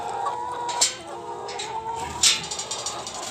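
Hens cluck and murmur softly nearby, with a couple of sharper squawks standing out against a low background hum.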